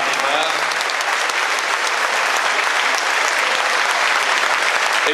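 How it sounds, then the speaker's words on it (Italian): Steady, dense applause from a large crowd at an outdoor political rally in Nuoro, Italy, clapping for the police and carabinieri, loud and unbroken throughout with a faint voice under it. "Fate un applauso alle forze dell'ordine che veramente ci mettono l'anima"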